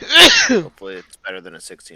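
A single sharp sneeze bursts out at the start during a tabletop Dungeons & Dragons session, followed straight away by a person speaking.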